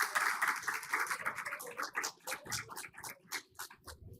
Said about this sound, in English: Can we hear a round of applause for them?